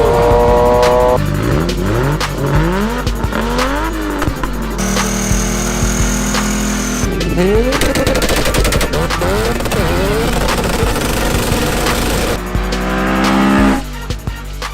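A Toyota Supra on Work Meister wheels revs hard while driving, its engine note climbing and falling in repeated loud sweeps, with a sustained high whine through the middle and a continuous close roar.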